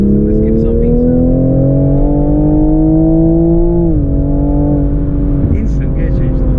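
A 2022 Toyota GR Supra (UK-spec A90 MkV) accelerating hard, its engine note climbing steadily and loud from the cabin, with a quick gear change near the end and a short pause before it pulls again.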